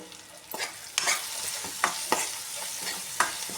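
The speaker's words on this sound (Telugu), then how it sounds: "ఇలా మధ్య మధ్యలో ఒకసారి కలుపుకుంటూ ఉండాలి అడగంటకుండా" Brinjal fry being stirred in a pan, with a soft continuous sizzle and several scraping strokes of a spoon against the pan at an irregular pace, close and clear.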